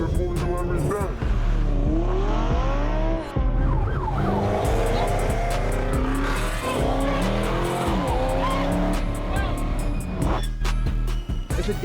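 Cars driving recklessly on a highway, with engines roaring and revving, tires squealing and skidding in long rising and falling whines and a siren-like wail, loud and continuous with sharp bursts throughout.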